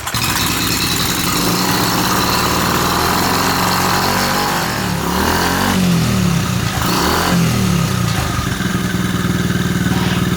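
A small Trail 70 motorbike engine runs off choke after a carburetor cleaning. It makes a loud, steady idle with buzzy exhaust and short rises in revs near the middle.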